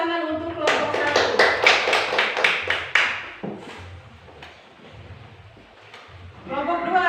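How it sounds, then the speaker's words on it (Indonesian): Classroom clapping for a presenting student group: a short burst of brisk, rhythmic claps from a handful of students close by, fading into quiet murmurs before a voice starts speaking at the end. "Dan tepuk tangan untuk kelompok 1."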